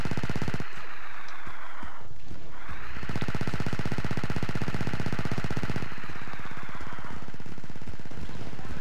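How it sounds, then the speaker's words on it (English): Sustained machine gun fire in Star Wars Battlefront 2 rattles loudly and continuously, with a brief dip before the gunfire resumes, dense and unbroken. "You gotta love the machine guns."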